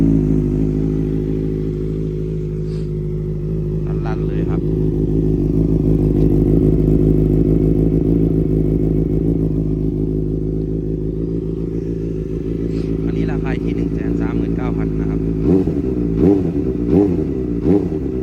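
A Honda CBR650F engine with an aftermarket exhaust idles with a steady low rumble, swelling into revs mid-clip, then settling back with some clattering and mechanical ticking toward the end.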